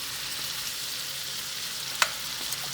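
A ribeye steak sizzles in a pan on the stovetop at medium-high heat, a steady close hiss of frying with one sharp pop partway through.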